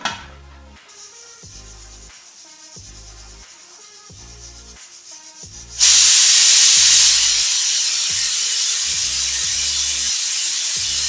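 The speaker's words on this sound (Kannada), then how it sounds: "ಇವಾಗ ಒಂದು 3 ಅಥವಾ 4 ವಿಸಿಲ್ ಹೊಡೆಸ್ಕೊಳ್ಳೋಣ" A pressure cooker cooking fenugreek leaf pulao rattles with rapid rhythmic puffs, then bursts into a loud, sustained steam whistle that hisses on to the end.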